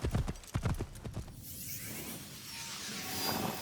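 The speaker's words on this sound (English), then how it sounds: "I am going to hop on the horse." Horse hooves clip-clop in a quick, steady rhythm while riding in the video game Assassin's Creed Shadows, fairly close and clear at first, then fading under a rising wash of wind-like ambient noise.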